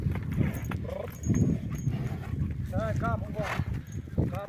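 Two draft-horse stallions move nearby with hooves clopping on the ground, mixed with snorting and whinny-like calls, under steady outdoor noise and some talking.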